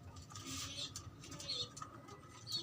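Soft, low pigeon coos repeat a few times close by, with light rustling and patter in the background.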